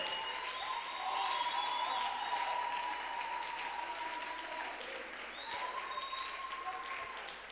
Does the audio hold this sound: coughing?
no